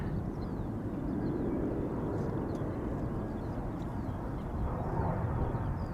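A jet climbing away after takeoff at Schiphol makes a distant, steady low rumble, with faint bird calls over it and no talk.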